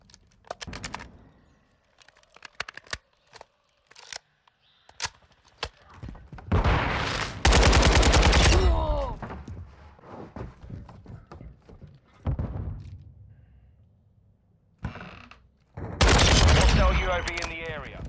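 An AK rifle firing in Modern Warfare 2, with sharp single shots early on followed by loud sustained automatic bursts, close and prominent, mixed with game sounds.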